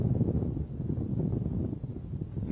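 Steady, gusting wind buffets an outdoor microphone on an early-morning safari drive, a dense low rumble that swells and dips continuously for the whole stretch with no voices.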